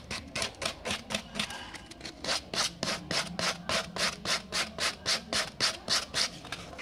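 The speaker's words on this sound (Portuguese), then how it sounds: "Uma lixa e a gente vai então passando." Sandpaper rubbed by hand along the edge of a themed tray for finishing, a steady run of about twenty rhythmic rasping strokes, close and alone with no talking.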